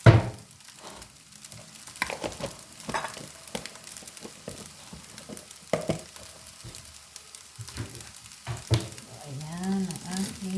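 Fried rice sizzling in a pan, the steady frying hiss broken by repeated scrapes and clanks of stirring, close up, with a few murmured words near the end.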